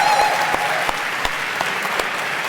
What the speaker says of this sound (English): Big round of applause for Dickson